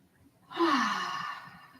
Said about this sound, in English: Nice big deep breaths in through our nose and out for our mouth.